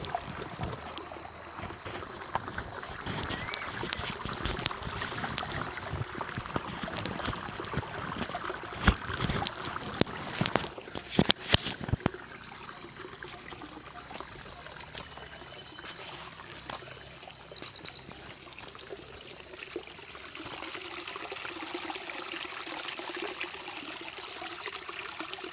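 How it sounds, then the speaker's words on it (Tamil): Natural spring water trickling and splashing at a mountain site on Alagar Malai, a steady close wash of running water with scattered clicks and knocks, no voices. "அங்கே இயற்கையாக தண்ணி வரக்கூடிய இடத்துல வர சவுண்டு நான் வைக்கிறேன்"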